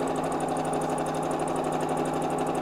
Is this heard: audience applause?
no